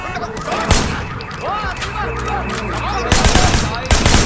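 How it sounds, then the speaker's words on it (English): Gunfire in a Sleeping Dogs firefight, loud sharp shots and bursts cracking at irregular intervals over a busy game scene with voices and other tonal sounds mixed in. "headshots are king in these firefights like this"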